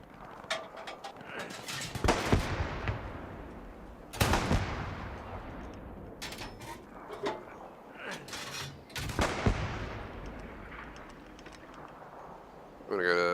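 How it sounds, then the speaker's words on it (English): Artillery bombardment of a bridge in the World War II game Hell Let Loose, several heavy booming shots spaced a couple of seconds apart with long rumbling decays, under a player's voice talking. "We just need to start bombarding the bridge."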